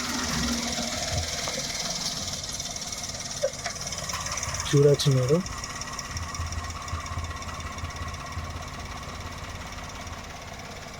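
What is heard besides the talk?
Maruti Suzuki WagonR 2016 engine idling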